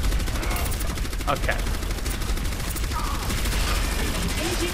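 Orisa's weapon firing in Overwatch, a steady rapid stream of shots running the whole time under dense game noise, with a voice speaking briefly.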